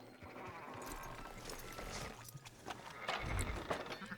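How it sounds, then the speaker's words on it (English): Sheep bleat in a Western open-world game farm scene, with several bleats heard over busy ambient game sound, distant hoof clops and faint talk. "Fine sheep."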